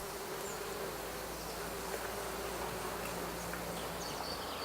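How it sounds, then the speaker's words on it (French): Insects buzz around flowering cauliflower and broccoli plants, a continuous, faint, even drone of many wings with no voices. "Ce sont les insectes qui sont les vecteurs de pollinisation."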